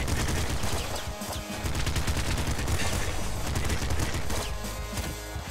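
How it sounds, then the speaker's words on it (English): Rapid volleys of gunfire from a shotgun in the game Nuclear Throne, dense overlapping blasts crackling nearly nonstop at a loud, close level with no talk. "Shotgun."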